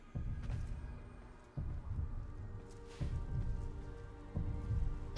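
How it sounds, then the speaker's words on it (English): Low, thudding heartbeat-like pulses from the game Warframe, beating at a slow, irregular pace of about four throbs over a few seconds, loud and close under a dense murky ambience. "you can hear a heartbeat"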